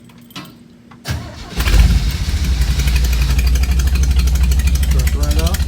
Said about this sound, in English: Let's see if I can start a Jeep from standing outside while holding the camera.